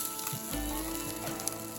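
A fish on a BBQ grill sizzles softly and steadily while it is flipped, with a faint scrape and shift of the fish partway through and no voices.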